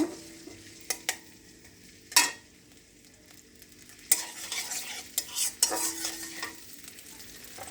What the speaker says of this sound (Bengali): এর মধ্যে দিয়ে দিলাম পেঁয়াজ কুচিটা। এখন হালকা করে একটু নেড়ে নিব।